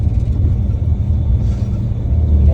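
Steady, loud low rumble of a bus engine throughout a ride, continuous and droning with no distinct events.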